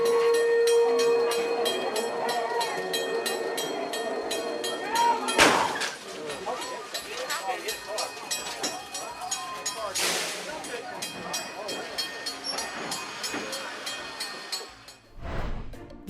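Rumbling rail cars of a moving train rolling past with a rhythmic clatter, a brief sharp burst midway as a car drives into it, and a short loud whoosh near the end.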